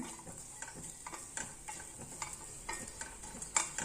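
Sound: stirring coconut rice mixture in a pan

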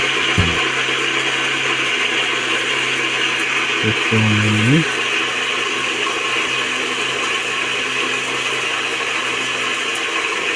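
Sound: electric mixer grinder grinding bitter gourd into juice

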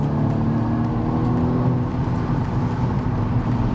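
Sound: BMW M135i 2019 accelerating and shifting gears

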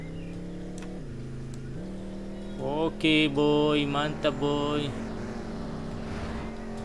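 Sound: children's motocross motorcycle engine revving

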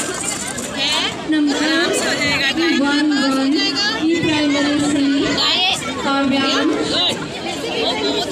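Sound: crowd chatter at a village fair

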